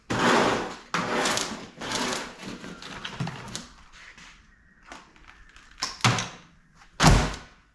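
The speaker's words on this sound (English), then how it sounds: "Little screen door action." A screen door is opened and shut in a garage, giving several loud wooden knocks and slaps with a spring-like rattle between them, ending in a sharp close near the end.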